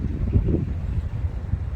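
Wind gusts outdoors in a garden in İzmir on a cloudy day, a low rumbling buffet against the microphone that swells and fades over a couple of seconds with no speech.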